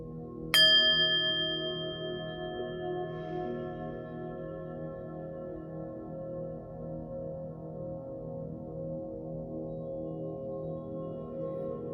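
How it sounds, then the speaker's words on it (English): A single bell strike rings out clearly, then sustains in a long, shimmering tone that slowly fades while a steady low hum continues underneath. "Let's ring this bell."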